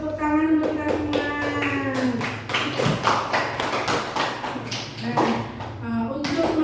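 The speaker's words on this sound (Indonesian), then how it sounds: "tepuk tangan untuk kita semua" Schoolchildren in a classroom clap their hands in a quick rhythmic pattern of sharp, close claps, with a voice speaking or chanting alongside.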